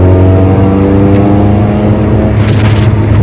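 Car accelerating on a highway to change lanes, engine droning loud and close with stepped harmonic tones shifting as it speeds up, plus a brief rush of passing wind toward the end.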